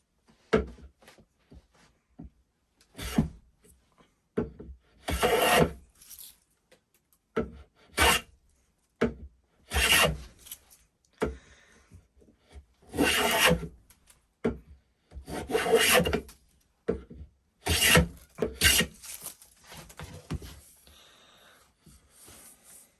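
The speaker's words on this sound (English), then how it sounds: "Let's get this planed." A hand plane shaves wood at close range while a vintage Tyzack dovetail saw is restored, making about eight rasping strokes in irregular bursts with short pauses between them and no talking.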